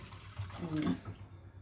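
Milk poured from a glass into a bowl for cake batter in a home kitchen, a short splashing pour of about a second, close and fairly quiet.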